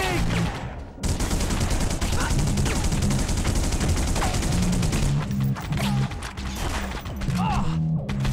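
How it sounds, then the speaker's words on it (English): Dense, continuous gunfire in The Punisher on PS2, loud and overlapping with heavy crashing impacts throughout, as in an intense firefight with voices and effects mixed in. "Being shot at."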